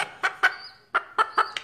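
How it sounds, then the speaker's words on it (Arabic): A large hen clucks in a garden, giving a series of short sharp clucks in an uneven rhythm, close and clear with quiet gaps between them. "دجاجتي كبيرة تبيض في الحديقة"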